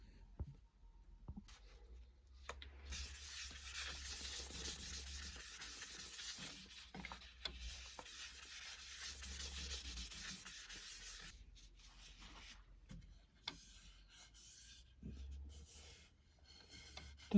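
Sanding sealer is rubbed by hand onto a sycamore wood piece, making a steady soft rasping friction that runs for several seconds, fades to quieter intermittent rubs and then picks up again, close and quiet, with no talk.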